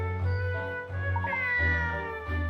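A cat meows in a video game, a few clear, close mews over a steady low musical background with no talking.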